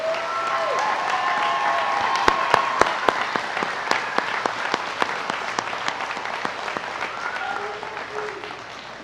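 Sustained applause from a commencement ceremony audience honoring graduates, dense clapping throughout with a few sharp louder claps standing out and some faint voices mixed in.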